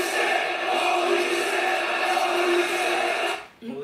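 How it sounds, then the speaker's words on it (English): A loud, sustained roar from a crowd at a pro wrestling event, a dense, steady wall of voices that holds for several seconds and then drops off sharply near the end. "That was the enthusiasm of the crowd."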